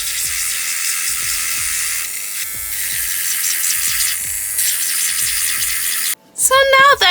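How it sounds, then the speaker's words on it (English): An electric nail drill fitted with a cone-shaped Piranha bit whines steadily while filing nails for a press-on gel application, a loud continuous buzz with brief dips, ending in a short burst of different noise. "I'm going to switch it over to this Piranha drill bit"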